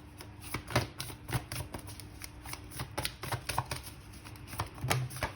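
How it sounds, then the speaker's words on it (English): A tarot deck shuffled by hand, a quick run of soft riffling flicks and taps at an uneven rhythm, close and fairly quiet with no talking. "I'm going to shuffle again because way too many cards came out at once"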